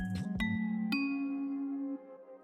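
A bright synthesized bell rings out, struck a few times in quick succession before one tone sustains and slowly decays, clear and close with no talking.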